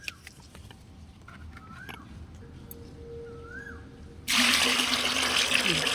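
Rice starch water and plain water poured into a big bucket, starting as a gentle trickle and then turning abruptly into a loud, steady gush close by, with birdsong faintly in the background.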